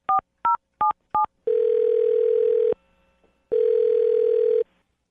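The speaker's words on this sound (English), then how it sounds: "I'm going to dial Alyssa's phone number right now" Four short touch-tone beeps dial a number on a telephone, then two long, steady ringback tones sound with a short silence between them. Clean and close, with no voices.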